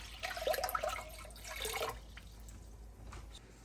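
Cold water runs from a tap into a cast iron pot in a home kitchen, a splashy pour of about two seconds that fades into quieter trickling and drips.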